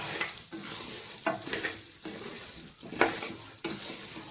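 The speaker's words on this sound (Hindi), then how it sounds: "अब जब तक गुड़ नहीं पिघल जाता तब तक हमें इसको चलाते रहना है।" Crushed jaggery melts in a pan for amla pickle while a spoon stirs in repeated scraping strokes roughly every second, over a soft sizzle, close and moderately quiet.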